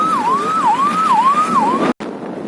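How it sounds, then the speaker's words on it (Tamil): An ambulance siren wails in a steady rising-and-falling cycle, loud and close as it passes on a road near Vellore, with four even sweeps and a brief cut near the end. "ஆம்புலன்ஸ் வருது."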